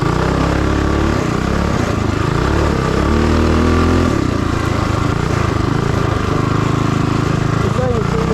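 A mower fitted with a 227cc stroker Predator Ghost engine runs loud and steady nearby, its engine note shifting slightly in pitch, with some speech mixed in under the motor.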